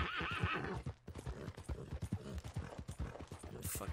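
Galloping horse hooves in Red Dead Redemption 2 pound in a fast, rhythmic clip-clop, with a horse whinny near the start and a brief hiss at the end.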